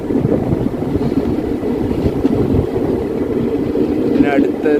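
The West Coast superfast sleeper train rolls into Payyanur railway station at night, a loud low rumble of wheels and carriages close by with faint voices in the background.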